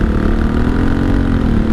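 A 1983 Honda Shadow VT750C motorcycle engine idles steadily, a loud, close, even low rumble with no talking.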